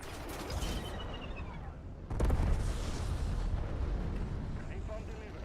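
Napalm airstrike in Call of Duty Warzone: a sudden heavy blast rolls into a long rumbling, crackling burn, loud and sustained, following an earlier muffled rumble.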